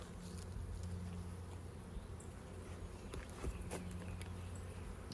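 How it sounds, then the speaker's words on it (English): Honey bees drone steadily around a swarm trap hive, a close, continuous buzz with a few faint handling clicks and knocks mixed in. "There's bees in there."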